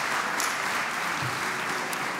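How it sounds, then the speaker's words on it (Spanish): A conference audience at a Madrid tarot congress applauds, a steady, even wash of clapping from many hands that holds throughout without a break. "Os pido un aplauso,"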